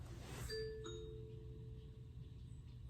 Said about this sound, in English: Someone is at the Mercury CW024 wired doorbell